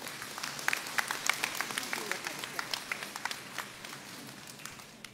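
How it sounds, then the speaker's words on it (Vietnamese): Scattered, fairly faint clapping from a church congregation, light and uneven, heard at a distance with soft room noise behind it. "Xin quý cộng đoàn cho cha một tràng pháo tay"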